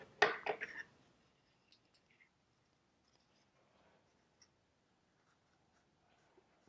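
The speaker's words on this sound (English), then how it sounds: "So I'm going to write down" A pen or pencil scratches briefly across paper while plug dimensions for ebony plugs are noted by hand, a short close burst followed by near silence and a few faint taps.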